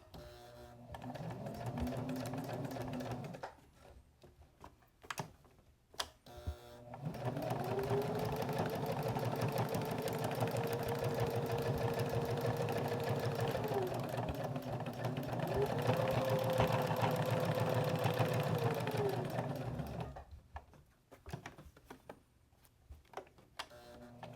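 A sewing machine stitches a fabric seat belt cover in several runs: a short burst, a pause with handling noises, then two longer steady stretches that stop and restart, close and moderately loud.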